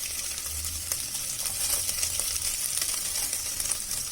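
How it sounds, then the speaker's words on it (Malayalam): Chopped coconut pieces fry in hot oil in a cooker, giving a steady, close sizzle with faint stirring scrapes and no talking. "ഇപ്പം ഞാൻ ഇവിടെ അരിഞ്ഞു വെച്ചിരുന്ന തേങ്ങാക്കൊത്ത് ഇതിലേക്ക് ഇടുന്നുണ്ട്."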